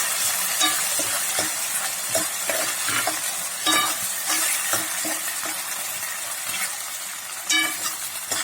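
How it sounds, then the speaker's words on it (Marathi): Chicken in a tomato sauce sizzles and crackles in oil as it is stir-fried, with repeated spatula scrapes and clinks over a continuous fry, close up. "हे आमी जे पर्यंत तेल सुटना ते पर्यंत परतून घेत रावपाचें."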